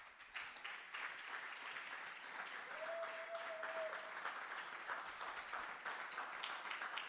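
A church congregation applauds during a sermon, a steady wash of dense clapping that fills the room for several seconds, fairly even in loudness, with a faint held tone briefly in the background.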